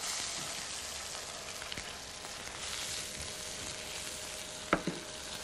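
Garlic, green chillies and sliced onions fry in coconut oil in a pan, a soft steady sizzle with a brief stirring clatter near the end, with no talking.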